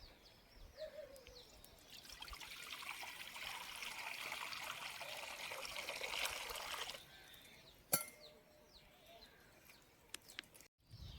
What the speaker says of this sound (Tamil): தண்ணியை சேர்த்துக்குவோம்.